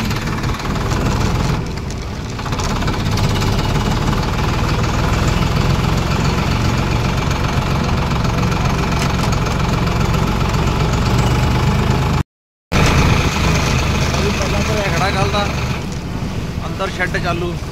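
A tractor engine runs at a steady idle, a loud continuous low rumble with a knocking mechanical pulse that holds throughout, nearby and without pause apart from one brief cut in the sound.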